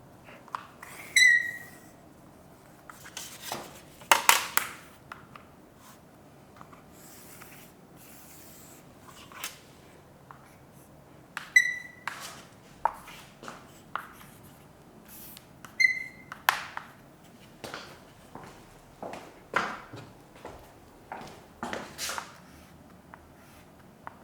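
A pen drawing a right triangle on paper for a trigonometry lesson gives close, intermittent scratchy strokes in separate bursts, with a few short squeaks in between and no talking.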